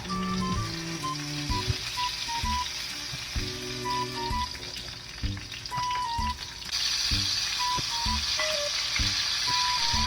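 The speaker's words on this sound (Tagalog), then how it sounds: "magpiprito naman ako ng talong" Eggplant frying in a pan of oil, a continuous soft sizzle heard beneath background music with clear melodic notes, no speech.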